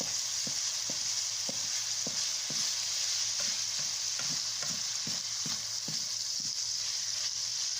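Chopped onion and garlic sauté in hot oil for fried rice, giving a steady close sizzle with a series of soft, regular stirring knocks of a utensil against the pan throughout.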